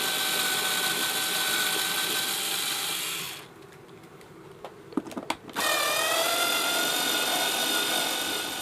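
Screws being taken out of motorhome vents, a few short clicks and ratcheting ticks from a screwdriver in a quieter gap between long stretches of steady whirring fan noise.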